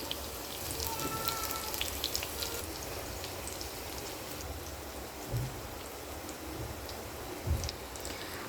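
Stuffed capsicums fry in a pan, giving a steady, soft, close sizzle with faint crackles and a couple of low bumps as they shift.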